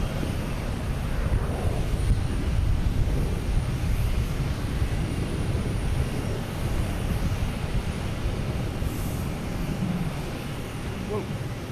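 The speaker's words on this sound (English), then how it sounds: "We have a plane taking off." A plane takes off at Boston Logan Airport, its steady, loud engine roar filling the whole stretch without a break.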